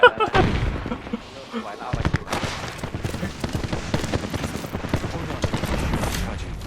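Rapid bursts of video game gunfire crackle through a loud, dense mix, continuous shots layered under excited talk from players.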